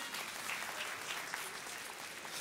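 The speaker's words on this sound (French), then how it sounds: "On peut encore l'applaudir." Audience applause fills a hall during a French-language sermon, a dense steady clatter of many hands clapping close and loud, holding evenly from start to finish with no talk over it.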